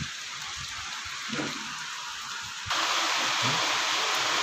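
Steady rain hisses throughout at an apartment complex, growing noticeably louder and denser partway through, with no voices.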